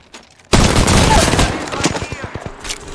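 Rapid automatic gunfire in the Apex Legends battle royale shooter, with a gold R-301 and R-99 loadout, erupting loudly after a brief quiet start and then continuing as a stuttering string of close shots that fades slightly toward the end.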